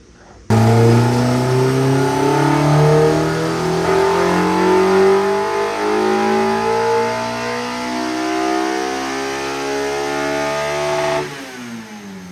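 A Honda K-series engine swapped into a Mazda Miata, without VTC, revs hard into VTEC and steadily climbs in pitch for about ten seconds, loud and close, then drops off abruptly as the throttle is released.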